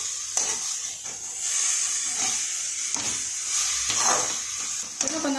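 Tamarind sautéed in a hot pan for coriander thogayal, giving a steady close sizzle and frying hiss with soft stirring scrapes throughout.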